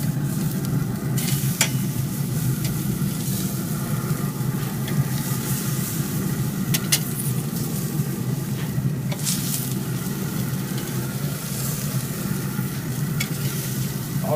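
Steaks sizzling on GrillGrates over a Rec Tec pellet grill, a loud continuous close-up hiss and crackle with a few faint clicks, steady throughout with no talking.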